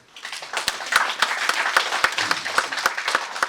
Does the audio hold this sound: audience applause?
yes